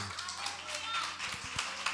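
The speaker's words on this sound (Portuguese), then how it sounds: "Vamos dar um aplauso ao Senhor." A church congregation claps for the Lord in a soft, steady patter of hands that runs the full length, with voices and low organ-like tones mixed in underneath.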